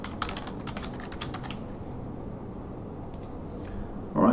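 Rapid keystrokes clatter on a computer keyboard as credentials and an address are entered, a quick run of close clicks that fades into near silence with a couple of stray taps.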